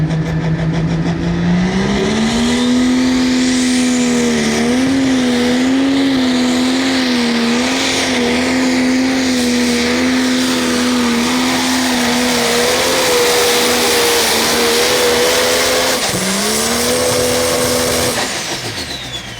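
A pro stock pulling tractor called the Tinker Toy roars through a pull at a tractor-pulling event in Osceola, Iowa. The engine is very loud, near and sustained, and its pitch wavers, dips, then climbs again.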